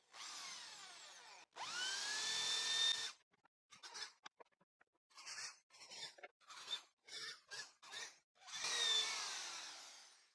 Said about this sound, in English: I'll use the manual drill again, this time with a 3mm bit and a 10mm countersink bit,